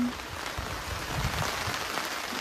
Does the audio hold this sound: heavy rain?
yes